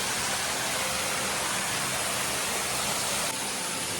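Small waterfall at Bhoothathankettu, water pouring in a steady, dense, loud broadband rush that fills the whole stretch without a break.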